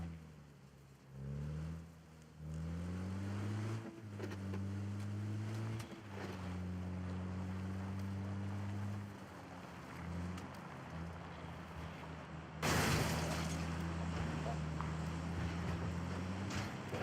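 A vehicle drives in the game PUBG, its engine droning and rising and falling in pitch as it shifts and revs, until a sudden rush of noise near the end.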